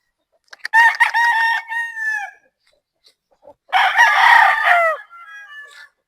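A three-year-old Boston Gilmore gamefowl rooster crows loudly at close range, giving two full cock-a-doodle-doo calls separated by a short silence, each trailing off into softer clucks.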